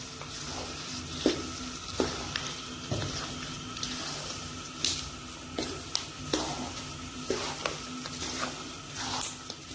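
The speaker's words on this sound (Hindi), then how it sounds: "इसको भी इसके अंदर डाल दूंगी और मिक्स कर लूंगी अच्छी तरह से" Chopped coconut gets stirred into an alsi pinni (flaxseed sweet) mixture in a pan: a steady low sizzle with repeated scraping strokes of the spoon at an uneven rhythm, close and fairly quiet.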